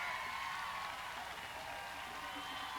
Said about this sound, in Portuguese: O policial ali parou para aplaudir.